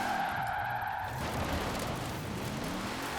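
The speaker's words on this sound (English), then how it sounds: "Right now, I'm just trying to slide this thing the way it is." Tires skid and scrabble as an overpowered car on poor tires slides sideways in Forza Horizon 4, a loud continuous screech with engine roar that swells after the first second, with no talking.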